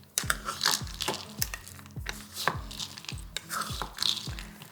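Homemade trail mix of dried fruit and nuts being stirred and tossed in a bowl, giving a steady run of crunchy rattling scoops roughly every half second, close and fairly loud.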